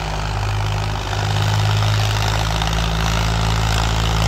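A Powertrac 445 tractor engine runs loud and steady nearby, a continuous low droning hum that dips briefly before holding its note, with no voices.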